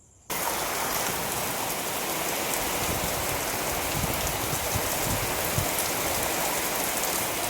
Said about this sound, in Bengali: এটা জল নামছে তো সিঁড়ি থেকে, ওখানে উঁচু করে দিয়েছে তাও জল নামছে